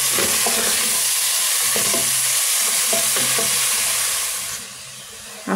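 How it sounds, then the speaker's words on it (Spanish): Onion, cumin and garlic fry in leftover fat in a pot for a Peruvian carapulcra, giving a loud, steady sizzle with repeated scraping knocks from stirring, before the hiss briefly drops near the end. "en la grasa que nos quedó en la olla vamos a poner la cebolla, los cominos y el ajo y vamos a mover"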